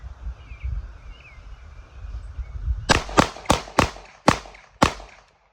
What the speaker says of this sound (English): I'm gonna try to shoot to the right of the target where I did